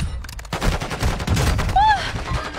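A semi-automatic gun fires in a video game as a rapid run of sharp shots over about two seconds, loud and close, ending with a brief electronic whine. A voice is faintly heard underneath.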